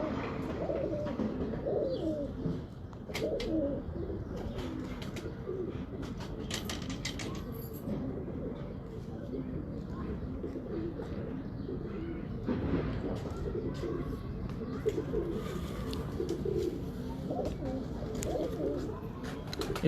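Pigeons coo repeatedly in a low, rolling murmur at close range, with people talking and scattered clicks and rustles around them.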